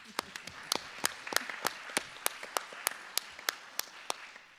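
A small audience claps at a church presentation, a scattered run of distinct hand claps at an uneven pace, fairly faint and thin rather than a full roar.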